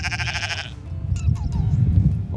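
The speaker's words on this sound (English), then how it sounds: "I've never seen sheep this friendly" Sheep on a grassy field by a beach bleat up close, one clear wavering bleat at the start followed by shorter, fainter calls over a rumble of wind or handling noise.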